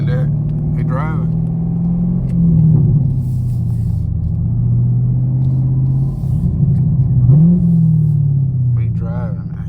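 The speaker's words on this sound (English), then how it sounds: "Just like that, we driving." A car driving on the road toward a tire shop, its engine a close, loud, steady drone that rises and falls slightly as it changes speed throughout.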